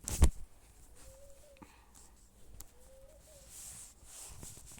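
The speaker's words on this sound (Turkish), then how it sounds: "Pencerenin oraya kondu galiba güvercin. Güvercin sesi geliyor." A pigeon perched near a window coos twice, each a soft, low, rising call a second or so apart, faint against quiet indoor background after a sharp knock at the start.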